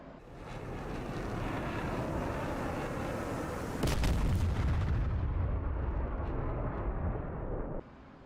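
About 3,000 pounds of bombs exploding during a training run, a long rolling roar that swells into a heavier burst midway and then cuts off abruptly, loud and distant.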